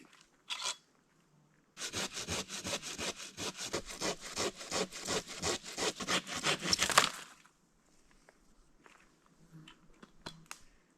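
Steady back-and-forth strokes of a hand saw biting through wood in the Canadian wilderness, about a dozen rhythmic rasps close by, ending abruptly as the cut finishes.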